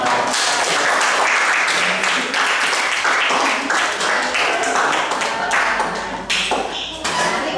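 A group claps after a class presentation, with dense, sustained applause close by that thins slightly toward the end, plus a few scattered individual claps and taps.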